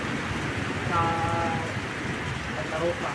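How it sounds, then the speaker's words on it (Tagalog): Heavy rain pours down steadily as broadband hiss through a motorcycle gathering in Santa Rosa, with people talking over it. "Ayan, bumuhos na po ang ulan dito sa amin"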